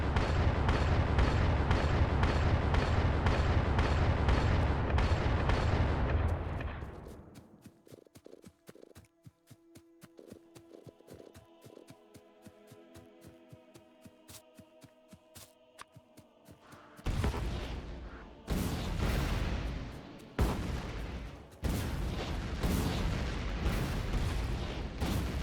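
Grenade explosions in Factorio with the Krastorio2 mod roar as a dense, continuous barrage, then give way to rapid ticking mechanical clicks before heavy booming blasts return in a cluster of loud bursts.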